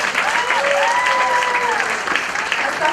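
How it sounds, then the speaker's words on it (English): Applause from an audience at a fashion show for models walking the ramp, a steady dense clapping throughout, with a sustained tonal sound gliding faintly over the crowd noise. "A huge round of applause for them."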